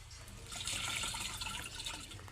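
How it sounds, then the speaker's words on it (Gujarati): Water splashes and trickles steadily into a container, a bright continuous pouring sound at close range with no talking. "થોડુંક પાણી નાખી દે એમાં."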